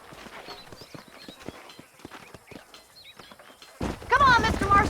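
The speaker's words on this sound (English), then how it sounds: "These are fine horses." Horse hooves in the Red Dead Redemption video game clop in a quick, even trot, close and distinct, until a voice cuts in near the end.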